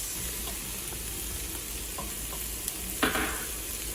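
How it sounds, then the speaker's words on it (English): Carrots and crushed garlic sizzle steadily in a hot pan while a utensil stirs them with a few soft scrapes and one louder clatter near the end. "Stir that around a little bit."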